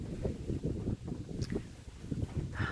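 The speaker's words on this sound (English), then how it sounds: "I hope it's not too windy out here." Low rumbling wind buffets the microphone outdoors, a continuous gusty roar with a few faint distant sounds mixed in.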